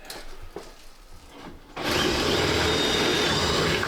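A few faint taps and scrapes, then a sudden loud, steady whirring drill bores a hole for socket screws on a large OO scale model railway.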